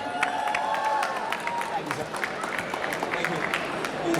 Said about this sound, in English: A huge round of applause for them also, people.